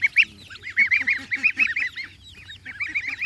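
Geese honk close by in a busy run of repeated nasal calls, some overlapping. A brief lull breaks the run, and then the honking picks up again.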